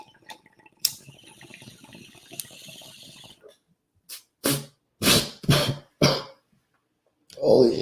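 Several harsh, explosive coughs in a quick irregular burst after a stretch of quieter rustling and a loud click, each cough close and loud with short gaps between, ending in a longer raspy cough or throat noise.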